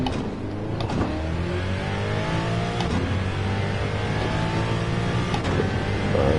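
A race car engine in a racing video game revs and drones steadily at high pitch, loud and continuous, with gear-shift dips along the way.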